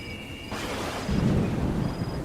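Night thunderstorm with steady rain, a low rumble of thunder swelling in the middle over a constant rainy hiss, close and fairly loud with no voices.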